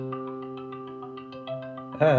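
Eurorack resonator in string mode rings out with sustained, stacked harmonic tones and light plucked attacks, holding steady before a louder, brighter burst of ringing at the very end.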